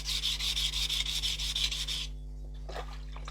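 The heel of a knife is ground on a coarse sharpening stone, a close rasping scrape in short rhythmic strokes for about two seconds, then quiet with a brief final rub.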